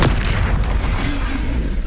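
A Bombardo blasting spell exploding in the Hogwarts Legacy video game, one loud, deep boom with a rumbling tail that fades over about two seconds.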